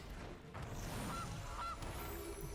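Geese honking as a card is played in the video game Magic: The Gathering Arena, two short honks over a constant low background hum.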